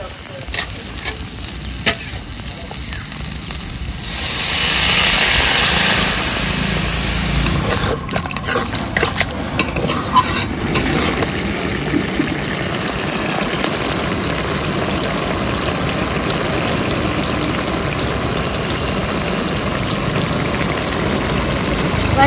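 Water is poured into vegetables frying with poppy seed paste, producing a loud rushing hiss that swells briefly and then settles into a continuous bubbling sizzle with occasional stirring.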